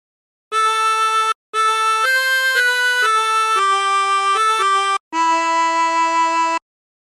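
Silent Night on a 16-hole tremolo harmonica, a slow melody of sustained reedy notes with a shimmering wavering tone, played in three breathy phrases separated by short pauses, close and clear with no voices.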